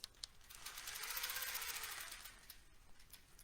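A longarm quilting machine sews back along a circle on a frame-mounted template. A faint, steady mechanical rattle swells and fades over a few seconds without any talk.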